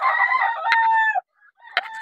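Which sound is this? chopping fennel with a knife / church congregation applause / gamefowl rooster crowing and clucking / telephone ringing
gamefowl rooster crowing and clucking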